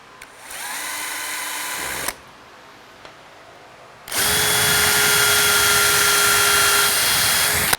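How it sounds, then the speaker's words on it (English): A power drill whines for about two seconds while drilling holes in a cat scratching pad, stops, then after a short pause runs again longer and louder, a steady high-pitched motor drone up close. "we're going to drill the holes for our little incline stand here"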